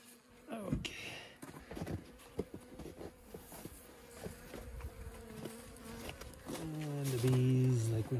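Honey bees hum and buzz around a hive in late winter, repeated near flybys with steady drone tones that swell louder toward the end, alongside light handling noises and a person's voice.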